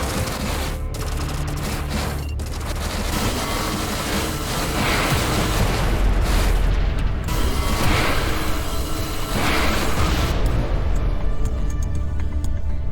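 Dense, continuous space combat from Everspace 2, with missiles launching and bursting among rapid mechanical rattling and clatter, loud and unbroken throughout, with no voices over it.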